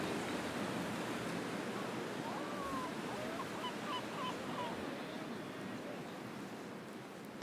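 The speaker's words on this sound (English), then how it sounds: "we are in Venice, Italy, and we hear a lot of different water sounds. The sea, the seagulls, boats." Sea waves wash gently along the waterfront in Venice, Italy, a soft continuous surf hiss heard from a distance, with faint bird calls drifting over it midway.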